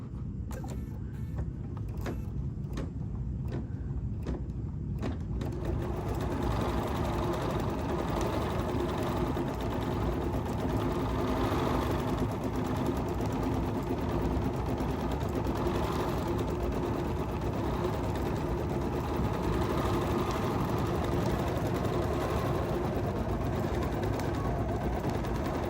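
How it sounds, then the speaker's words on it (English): A Bernina 990 sewing machine runs steadily while stitching out a quilting design, its close, continuous motor whir and needle chatter holding even for about twenty seconds after a few short starting bursts. "And now we're going to stitch."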